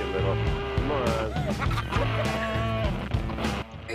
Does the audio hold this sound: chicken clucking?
yes